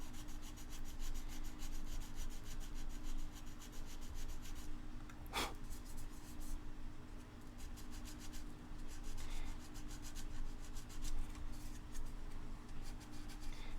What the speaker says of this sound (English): As we sand.